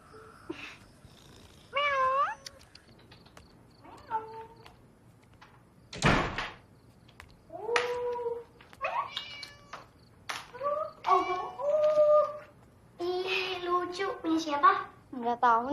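A cat meows several times with rising and falling calls, mixed with people talking and a sharp door-like knock or slam midway.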